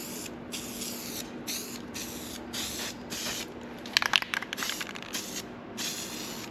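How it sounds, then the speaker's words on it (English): An aerosol can sprays a first coat of paint onto parts of a Yamaha Phazer snowmobile. Close hissing bursts repeat in steady short passes, with a brief rattle of the can midway. "this is just a first coat,"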